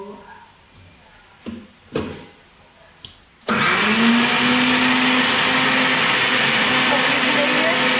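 A few brief knocks and clatters, then a loud electric mixer grinder starts up abruptly and whirs steadily at close range until the end.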